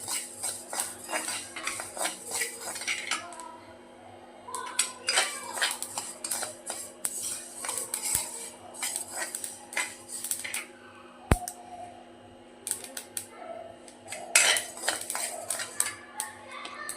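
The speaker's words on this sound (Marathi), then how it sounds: "तीळही भाजून घ्यायचे आहेत" Sesame seeds dry-roasting in a pan as a spoon stirs them, giving repeated metallic scrapes and clinks in uneven bursts over a quiet, steady background hum.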